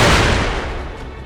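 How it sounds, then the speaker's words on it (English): Firecracker prosthetic tool going off in Sekiro: Shadows Die Twice, a loud, dense burst of crackling bangs that fades quickly, with no talking. "Firecracker."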